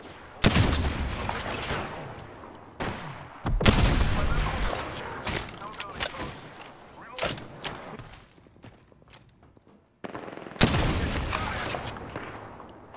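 Bursts of gunfire in the Apex Legends video game, sustained volleys of loud close shots broken by short pauses, with a player talking over parts of the fighting.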